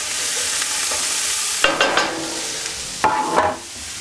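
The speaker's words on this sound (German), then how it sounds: "So, die brutzeln wir jetzt kurz an." Onions fry in a pot over a flame while polish bigos is made, giving a steady close sizzle broken twice by sharp scraping stirs and crackling bursts before it settles back.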